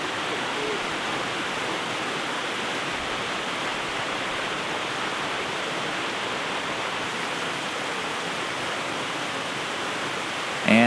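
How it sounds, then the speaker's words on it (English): Jacob's Falls, a small waterfall beside a trail in Michigan's Upper Peninsula, gives a steady, even rush of falling water heard from nearby, unbroken for the whole stretch, with a brief knock at the very end. "Right next to the Jam Pot was Jacob's Falls, a nice little waterfall and trail."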